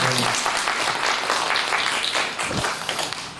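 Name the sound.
church congregation applause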